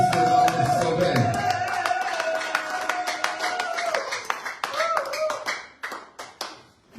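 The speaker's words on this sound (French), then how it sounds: "Acclamons Jésus-Christ, notre Sauveur." A church congregation at a Sunday service claps and cheers in acclamation, rhythmic handclaps over a sustained musical tone and voices, the clapping thinning out toward the end.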